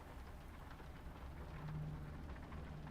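Steady rainfall, a soft even hiss of drops with a faint low rumble beneath, continuous and unbroken with no voices.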